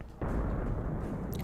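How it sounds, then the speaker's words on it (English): Missile launch in the space combat game Infinity Battlescape, fired at a larger corvette ship: a sudden deep blast erupts and holds as a loud, sustained rumbling roar with no talk over it. "I should be decent to fire missiles at it now"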